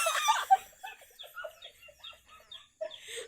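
Chickens cluck in short, scattered calls near a coop set above a pig pen, a busier burst at the start giving way to sparse, moderately close clucks.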